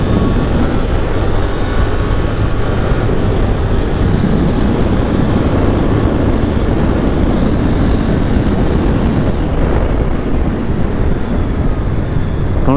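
Suzuki GSX-8R motorcycle cruising steadily at low revs around 24 km/h in second gear, a constant broadband rush of engine drone mixed with heavy wind buffeting on the microphone, loud and unbroken throughout.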